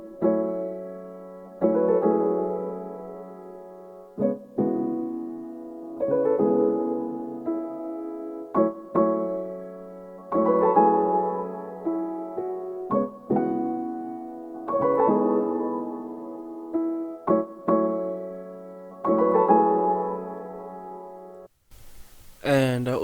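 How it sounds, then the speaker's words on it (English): Soft Piano preset from Spitfire Labs playing a gentle, sustained ambient chord progression, chords changing every few seconds with soft attacks and long decays, played alone. "So I started with a piano from from Spitfire Labs. The name of the piano is Soft Piano,"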